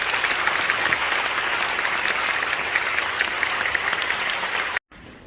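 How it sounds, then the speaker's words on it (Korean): A large audience at a Korean Pentecostal conference claps warmly to welcome a pastor to the podium, a loud, dense and sustained wash of applause that cuts off abruptly near the end. "뜨거운 박수로 환영해 주시기 바랍니다"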